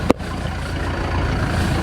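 A 2019 Roxor sits in first gear with an idling engine, a steady, close, low rumble after a brief click at the start.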